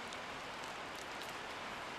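Steady rain falls outside as a faint, even hiss, unbroken for about two seconds with no voices.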